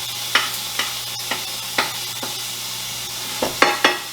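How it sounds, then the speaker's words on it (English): Eggs and bacon frying in a pan for a Christmas breakfast, giving a steady close sizzle with a faint hum beneath and several sharp clinks or stirring taps spaced irregularly through it, no talking. "eggs are cooking, bacon's about a minute away"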